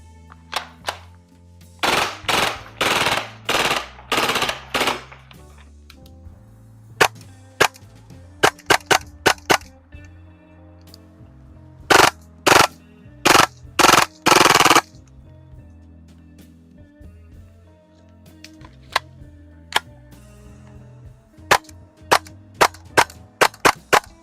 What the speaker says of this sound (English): the insane rate of fire makes the replica really fun to shoot